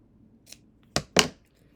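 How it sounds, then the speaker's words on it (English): Scissors cut quilt fabric along a drawn line, giving two or three short, crisp snips close by in an otherwise quiet room. "you can cut along that drawn line"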